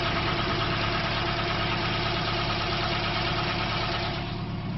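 A Ford Pinto engine in a kit car, fitted with a Weber 32/36 DGAV carburettor, idles at about 1050 RPM with a steady, even mid-pitched hum that stays constant and close throughout, with no talk.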